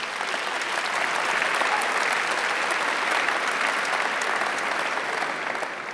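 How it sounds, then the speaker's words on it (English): A large crowd at a startup pitch event livestream breaks into a big, even round of applause, dense clapping holding steady at full strength for the whole stretch. "I think that deserves a very big round of applause."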